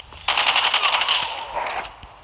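Rapid bursts of shotgun fire in a Call of Duty match, a short dense volley of loud blasts lasting about a second and a half before tailing off, close and alone.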